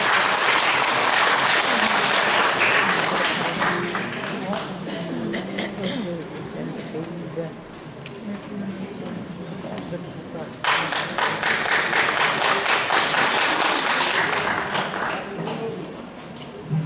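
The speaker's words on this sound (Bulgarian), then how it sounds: "Сега вашите аплодисменти за село Камен, община Добричка и тяхната мъжка фолклорна група Каменци" Sustained audience applause at a Bulgarian folk festival for a men's folklore group from the village of Kamen, loud clapping that dips in the middle then swells again, with voices faintly underneath.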